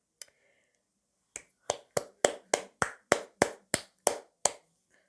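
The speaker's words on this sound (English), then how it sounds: "That was me clapping, by the way." One person claps hands about a dozen times, sharp and close, in a steady quick rhythm after a single early clap and a pause, with nothing else audible.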